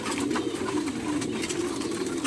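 Racing pigeons kept in a loft, giving soft, continuous low cooing with several birds overlapping, close and steady for a couple of seconds.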